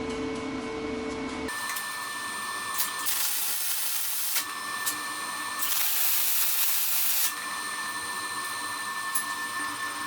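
Tack welding steel for a heavy duty mobile base for vintage woodworking machines, several bursts of steady crackling hiss with a constant machine hum between them.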